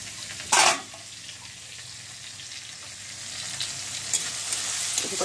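Tomato, onion and chilli fry in a pan with a steady, close sizzle; a short loud splashing burst comes near the start, then the hiss continues evenly.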